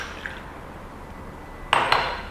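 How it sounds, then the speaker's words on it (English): Cold brew coffee poured into a glass of ice, a quiet trickle followed by two sharp clinks of ice against glass near the end, close and fairly faint. "Pour your cold brew coffee into your glass of ice"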